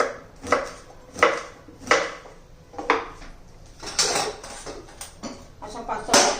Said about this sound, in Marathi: आता याची आपण फोडी करून घेऊ.